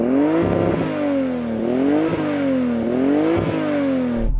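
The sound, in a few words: Toyota Supra car engine revving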